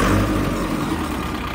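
A tractor engine revs up close by, a loud rising mechanical roar that holds steady through the short stretch, with no voices.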